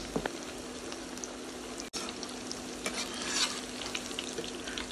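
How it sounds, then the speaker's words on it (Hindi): Chicken pakoda pieces frying in hot oil over a medium flame, a steady crackling sizzle with occasional stirring, close and even throughout, briefly dipping for an instant near the middle. "कंटिन्यूसली इसको मीडियम फ्लेम पे ही फ्राई करना है"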